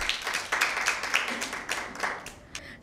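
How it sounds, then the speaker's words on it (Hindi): Scattered applause from a small group, steady claps pattering for a few seconds at moderate volume. "इनके लिए बहुत भरपूर तालियां"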